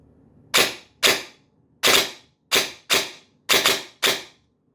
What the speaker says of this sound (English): Do some shots on semi.